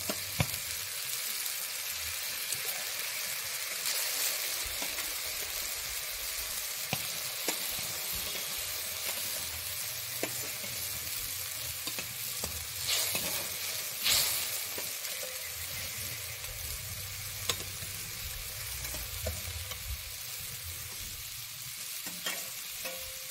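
Hilsa fish pieces fry in mustard oil, a steady close sizzle and hiss with occasional faint taps of the pan, with no talking.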